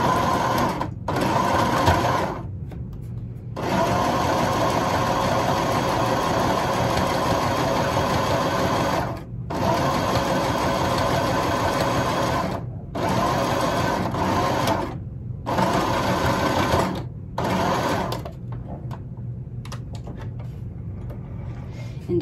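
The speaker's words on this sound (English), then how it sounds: "We're gonna put a back stitch in it to keep it" Home sewing machine running a back stitch on fabric, a steady close mechanical whir in long runs broken by several brief pauses, with no talking.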